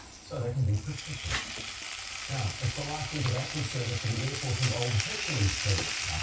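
Minced fermented fish (pla ra) stir-fries in a pan, giving a steady close sizzle with stirring scrapes, while voice-like murmuring runs underneath.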